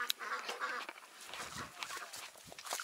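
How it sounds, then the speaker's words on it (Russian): Blue-breed ducks quack in a village yard at a moderate distance. The calls are repeated and irregular, with faint background sounds. "А вон утки."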